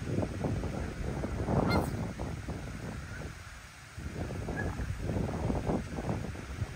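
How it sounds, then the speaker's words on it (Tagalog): A flock of wild ducks at a park honks repeatedly in overlapping calls, close and loud against steady wind rumble, with a brief lull midway before the honking resumes. "Grabe, wild yan dito yung mga pato na yan,"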